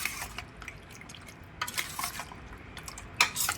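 Chicken marinade being stirred in a bowl, with a spoon clinking and scraping against the sides in short, irregular bursts at close range and moderate volume.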